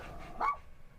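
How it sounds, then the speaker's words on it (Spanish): A single short dog bark or yip, brief and fairly faint, stands alone. "Perro."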